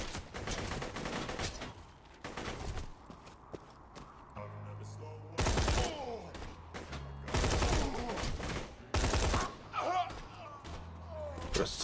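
Repeated gunfire from fights with enemies in Borderlands 2 comes as loud bursts of shots over constant background game noise and music, with a voice talking now and then.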